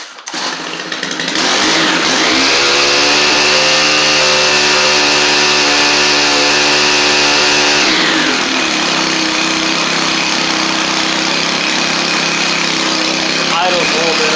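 A Stihl gas string trimmer fitted with a replacement Hipa carburetor runs loud and close, revving to a steady high whine for several seconds, then dropping back to a lower, slightly fast idle that keeps droning.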